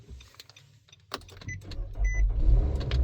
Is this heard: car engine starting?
yes